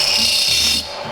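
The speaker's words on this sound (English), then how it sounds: "So I'm going to drill it out at 7 millimeters." A drill bit bores a 7 mm hole through twist Damascus steel during Bowie knife making, giving a loud, harsh, continuous grinding rasp that cuts off abruptly near the end.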